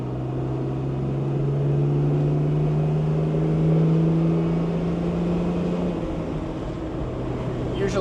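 A 1970 Mercedes-Benz 280SL with a four-speed manual and a tall rear differential cruising in fourth gear, a steady low engine drone with a slowly rising then easing pitch, close and continuous throughout.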